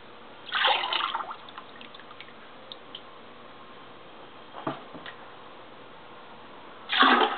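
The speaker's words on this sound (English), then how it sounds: "I'm going to fill the inside of my mug with sea mist." Sea mist pottery glaze is poured into a ceramic mug, two bursts of liquid splashing and gurgling separated by quiet handling noises.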